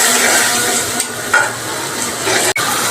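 Spices and minced beef fried and stirred in hot oil for a crushed-beef curry, a steady close sizzle throughout with a brief utensil clink and a short dip near the end.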